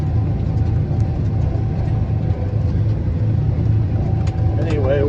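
A John Deere 7820 tractor engine pulling a disc through a field, a loud continuous low diesel drone with steady rumble and no pauses, heard from inside the cab with a voice talking briefly.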